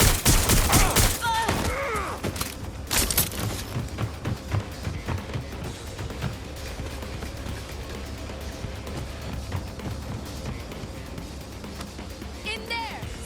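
Sustained gunfire in the video game Watch Dogs: Legion, with a loud burst of shots up front, then a steady crackle of distant rapid fire, game voices speaking over the fighting.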